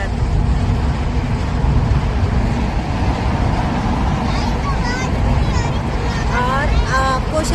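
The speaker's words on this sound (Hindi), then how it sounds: "इसके अंदर इतना शोर हो रहा है गाड़ियों का" Loud, steady roar of vehicle traffic echoing inside a long road tunnel on the route from Jammu to Pahalgam, a dense low rumble filling the whole clip, with someone talking over it.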